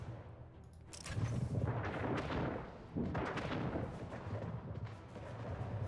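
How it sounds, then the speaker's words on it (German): In the strategy game Anno 1800, a ship comes under cannon fire, and a rolling series of booming shots and blasts overlaps into a dense, rumbling barrage at moderate distance. "Schiff unter Beschuss."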